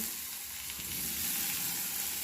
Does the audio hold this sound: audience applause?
no